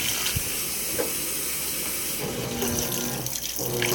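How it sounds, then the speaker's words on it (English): Water pours steadily into a washing machine tub during a cold wash cycle, a continuous loud rushing hiss with no pauses. "I'm continually adding more water as I see fit."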